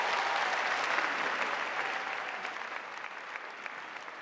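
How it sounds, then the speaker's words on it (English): Sustained audience applause from a crowd, dense and steady, gradually tapering slightly toward the end with no voices over it. "that sure does deserve a round of applause"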